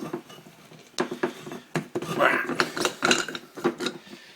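Plastic and metal parts clatter and click in quick irregular bursts as a blender jar is unscrewed and handled up close.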